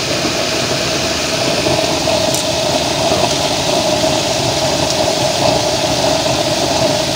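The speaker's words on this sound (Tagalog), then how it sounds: "5 volts blower lang yung magpapagana dyan." A 5-volt dual blower fan runs loud and close, giving a steady, unbroken whooshing drone for the whole stretch with no pauses.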